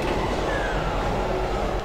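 A moving train in the video game Brutal Doom gives a steady, loud, continuous rumble with a low rolling clatter, close and unbroken throughout.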